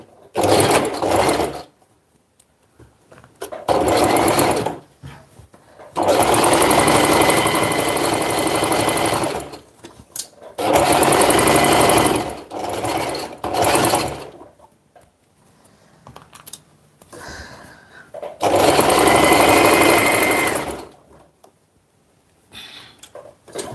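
A sewing machine stitches fabric in repeated bursts of steady mechanical whirring and clatter, each run lasting a few seconds, with quiet pauses in between and no talking.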